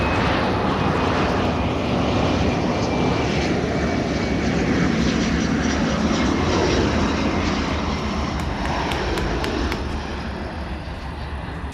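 A passenger airplane on a flight from Kyiv arrives at Chernivtsi airport, its engines giving a loud, steady broadband roar that holds throughout and eases slightly toward the end.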